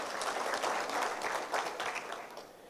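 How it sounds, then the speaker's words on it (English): Audience applause at a TVET program event in Kenya, a steady crowd clapping throughout, dense and fairly close, with no voices over it. "A round of applause"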